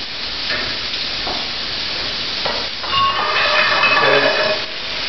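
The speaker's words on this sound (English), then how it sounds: "I'm going to saute them real quick until they're pink." Shrimp sauté on high heat in a pan, making a loud, steady, close sizzling hiss that swells and crackles more intensely partway through before easing slightly.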